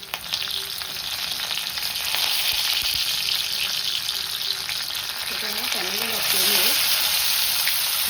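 Garlic and curry leaves sizzle steadily in hot oil as a broad, continuous frying hiss, slightly louder toward the end, with a brief voice-like murmur partway through.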